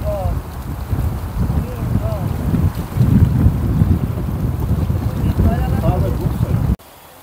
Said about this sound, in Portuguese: Que vento gostoso